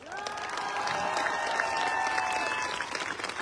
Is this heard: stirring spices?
no